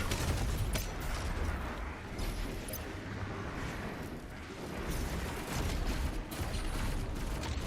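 Rapid rocket fire and explosions in the video game Doom Eternal, a dense, continuous barrage of booms and blasts filling the whole stretch, loud and unbroken.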